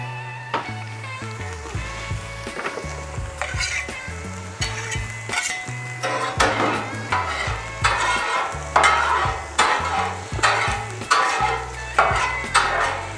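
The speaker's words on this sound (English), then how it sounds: "We'll put down a little ghee." Ghee melting and sizzling on a Blackstone flat-top griddle set for eggs, a steady frying hiss with recurring bursts of louder crackle, close and fairly loud, no speech.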